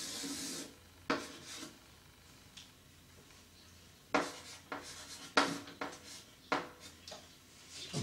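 Chalk or marker strokes on a board as a graph is sketched during a physics lecture, a series of short scratchy rubs in irregular bursts, fairly close, with quiet pauses between them.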